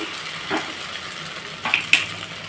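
Egg poured into a hot frying pan for a bread toast recipe, giving a steady close sizzle with a couple of light utensil clicks and scrapes, no voices.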